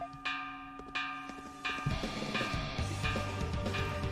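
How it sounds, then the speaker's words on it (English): Warning bell in the Ys IX video game: several clear metallic strikes ring out at regular intervals, each decaying with a long resonant tail, with busier game sounds and music building beneath the later strokes. "That sound. It's the warning bell."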